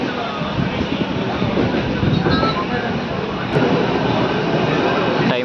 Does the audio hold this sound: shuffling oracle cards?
no